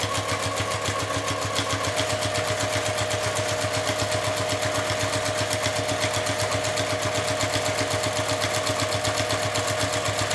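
A sewing machine stitches steadily through a bag tassel, a fast continuous mechanical chatter at close range running without pause.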